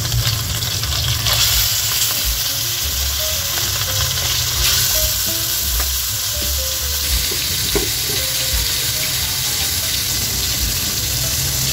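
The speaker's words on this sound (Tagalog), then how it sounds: "Ngayon guys ay mainit na yung mantika, kaya ilalagay na natin itong mga isda." Salted yellowfin fish sizzling in hot oil, a steady loud crackling hiss that carries on throughout with small pops and faint clinks over it.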